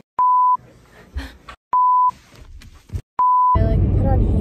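An alarm beeps in three loud, steady electronic tones, each about a third of a second long and evenly spaced. Faint rustling fills the gaps, and a louder burst of noise follows the last beep.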